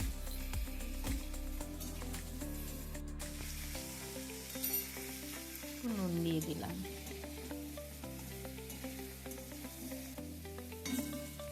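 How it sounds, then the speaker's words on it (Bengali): Pieces of pointed gourd (potol) frying in a pan with turmeric and salt give off a steady, close sizzle. A voice speaks briefly and some tonal background sound plays over the frying. "হালকা করে পটলটা একটু ভেজে নেব নুন দিয়ে হলুদ দিয়ে"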